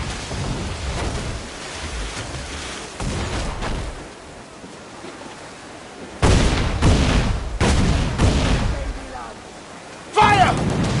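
Cannon fire from a sailing warship in an Assassin's Creed naval battle, heavy booms breaking out in several bursts amid shouted crew voices and background sea-battle noise.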